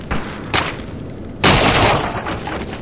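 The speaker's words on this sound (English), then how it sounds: "It's like gunshots" Loud bursts of gunfire in the video game S.T.A.L.K.E.R. Anomaly fill the clip: a couple of separate shots, then a sustained heavy volley of rapid fire, close and harsh.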